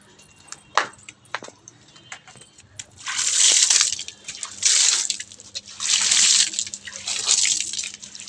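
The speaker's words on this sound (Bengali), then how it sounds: "তো চলুন বন্ধুরা গাছে একটু জল দিয়ে দিই" Water is poured from a container onto dried-out plants at their base, coming in four splashing bursts about a second long each, close by, with brief knocks and handling noises before the pouring starts.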